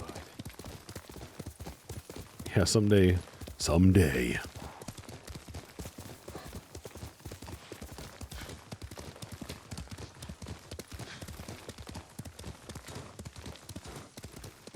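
A horse's hooves clip-clop in a steady rhythmic patter across open ground in the Ghost of Tsushima video game, continuing beneath a short spoken line and a couple of loud bursts of voice.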